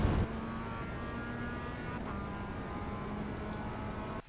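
A Mazda MX5 engine drones at full throttle in iRacing at Motorsport Arena Oschersleben, a steady, buzzing, sustained note held at constant pitch, moderately loud and without talk.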